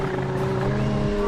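A Chevrolet Camaro races in a driving game with a steady, sustained engine drone and a constant tonal hum, close and continuous throughout.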